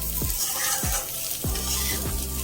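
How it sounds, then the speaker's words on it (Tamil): Curry leaves stirred into a frying yam (karunaikilangu) podimas in a pan, a steady sizzle with several scraping spoon strokes recurring about every half second, close and fairly loud. "நம்ம போட்ட இந்த கருவேப்பிலையை இதோட பரட்டி விட்டுடலாம்"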